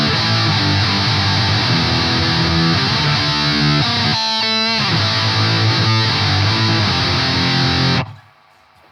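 Guitar runs through an Audified Multidrive Pedal Pro set to a Metal Zone-style distortion with scooped mids and boosted treble and bass, giving loud, saturated riffs and chugging palm-muted bursts that stop abruptly near the end.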